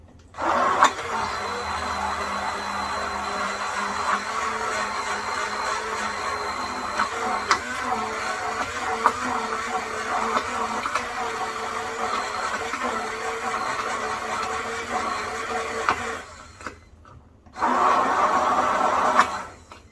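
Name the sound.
blender blending homemade mayonnaise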